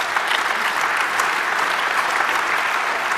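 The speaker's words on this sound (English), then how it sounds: "that deserves a round of applause for these courts" Dense audience applause at a conference talk on EU data retention, steady and loud throughout, with no voices rising above it.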